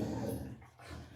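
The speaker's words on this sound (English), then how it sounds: "excuse my obnoxious dog." A dog whines and whimpers briefly in a low, plaintive tone, close by and alone.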